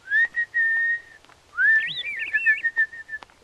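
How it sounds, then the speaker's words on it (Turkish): A cartoon character whistles to try to talk to birds, with a long steady whistled note followed by a rising, warbling trill and short chirpy phrases, close and clear. "Neden ıslık çalıyorsun?"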